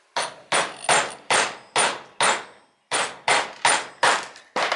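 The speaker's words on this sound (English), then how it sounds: "You gotta tap them in." A hammer tapping press-fit studs into a Honda CBR/VFR800 hybrid motorcycle before the sprocket goes on: ten sharp, evenly spaced metallic knocks close by, with a short pause midway and no talking.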